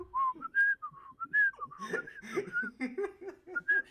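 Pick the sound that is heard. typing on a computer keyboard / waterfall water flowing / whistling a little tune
whistling a little tune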